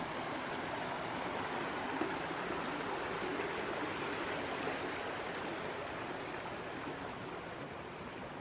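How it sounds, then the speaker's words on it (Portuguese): Water trickles and rushes steadily along a canyon stream in southern Brazil, a dense continuous wash of flowing water close by with no voices. "Tá escorrendo água aqui, tá escorrendo água ali na frente."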